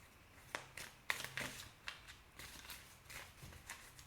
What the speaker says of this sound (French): on va aller recouvrir un petit peu certaines cartes